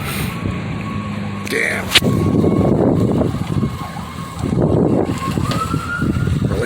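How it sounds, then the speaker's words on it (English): A fire department engine pulls up to a burning truck outside a Home Depot. A siren sounds briefly, followed by a heavy engine rumble and rushing roar close by. A man mutters briefly over it. "Here comes the fire department."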